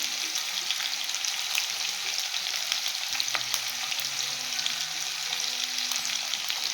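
Potatoes and cauliflower stalks frying in hot oil, a continuous bright sizzle with small crackles and occasional stirring scrapes, steady and close, with no voices.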